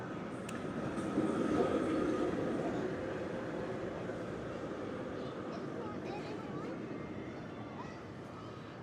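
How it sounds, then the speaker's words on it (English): An orange ride train on the Verbolten roller coaster rumbles past at a theme park, a broad low roar that swells early on and then slowly fades as it moves away. "And there goes the orange train"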